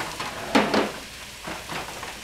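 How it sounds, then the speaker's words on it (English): Mushrooms dropped into hot oil in a pan over medium-high heat, giving a burst of crackling sizzle followed by softer bursts as they settle, close and fairly loud with no talking. "Ooh, you can hear that sizzle."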